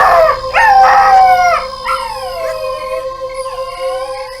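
A dog howls in a film scene, loud and close, in long wavering rising and falling cries. The howls taper into quieter, thinner wails over a faint background hum.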